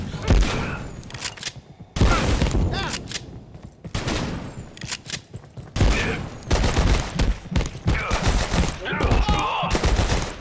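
Rapid bursts of automatic gunfire from an assault rifle and other weapons in the video game Abiotic Factor, loud and dense, with sharp repeated cracks almost continuous over the whole stretch.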